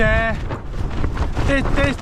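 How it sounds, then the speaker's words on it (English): Strong, gusting wind buffets a tent on a campsite high above Langdale, a steady roaring rush with surging gusts, while someone speaks over it at the start and again near the end. "The wind's unbelievably strong."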